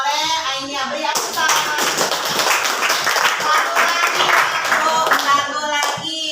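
A classroom group breaks into applause, starting with a few scattered claps and then swelling into dense, loud clapping that holds for several seconds before tapering off.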